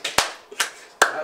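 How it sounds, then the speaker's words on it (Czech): Hand clapping, three separate sharp claps spaced about four tenths of a second apart, close and clear in a quiet room. "Další věc, potlesk, prosíme."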